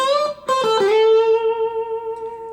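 A sustained electric guitar note bends and rings out after a couple of quick picked notes, bluesy and clean, fading slowly with no voices; an intro solo lick.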